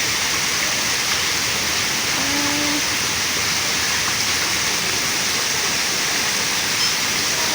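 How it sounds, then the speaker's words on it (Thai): Forest waterfall in a butterfly conservation area, a constant broadband rush of falling water, loud and unbroken, with no voices over it. "มีน้ำตกด้วยทุกคน"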